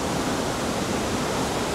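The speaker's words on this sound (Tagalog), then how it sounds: "pero ang lakas ng current ng tubig ngayon" Steady broadband rushing of a strong river current near Wawa Dam in Montalban, loud and continuous, like water pouring over rocks, with no voices.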